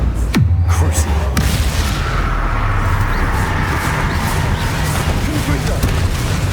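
A Confringo spell explodes in the video game Hogwarts Legacy with a sharp blast near the start and a second crack about a second later. A dense, loud rumble of battle noise follows and carries on throughout.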